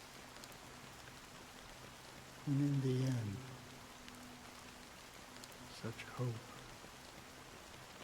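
Steady soft rain falls throughout a scene in the video game Honkai Star Rail, a constant low hiss under a voice speaking midway and briefly again near the end.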